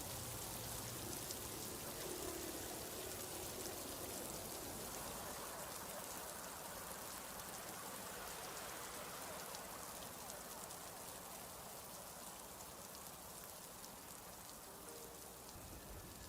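Steady rain falls without a break, a dense even hiss of drops pattering on surfaces, close and constant with no voices.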